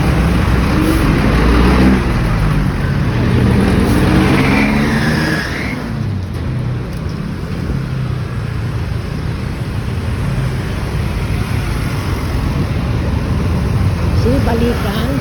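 Heavy city road traffic on a walk from City Hall to Terminal Karuhatan forms a loud, dense roar of car engines and passing vehicles, with revving rising and falling as people talk over it.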